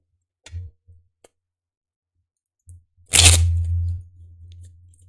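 Stiff tarot cards being shuffled by hand give a few sparse taps and clicks, then a short, loud riffle that trails into a soft low rustle.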